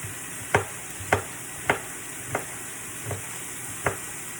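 Beef searing in a hot pan, a steady quiet sizzle broken by six sharp, evenly spaced scraping or stirring knocks.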